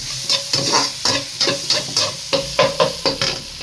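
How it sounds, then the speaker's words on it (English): Vegetables for veg chowmein sauté over a medium-high flame, hissing steadily while being stirred in a quick rhythm of about a dozen scraping, sizzling tosses, close and clear without talk. "Saute it for a while, almost 1 or 2 minutes."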